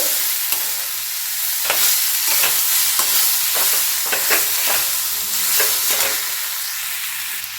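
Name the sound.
frying cauliflower stuffing for gobi paratha in a pan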